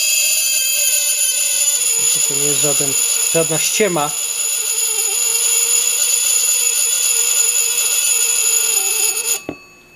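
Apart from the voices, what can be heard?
metal blade screaming as it vibrates on dry ice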